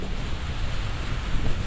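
Wind gusts across an open fishing spot on a cold, rainy day, a continuous close rumbling roar buffeting the microphone without any pause or talking.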